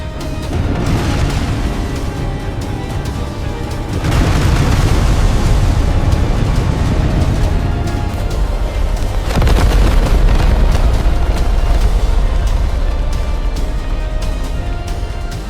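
Heavy plasma torpedoes firing into a structural core in a sci-fi battle, heard as a continuous roaring barrage of deep booming explosions, loud and sustained, with fresh surges of blasts at about four and nine seconds.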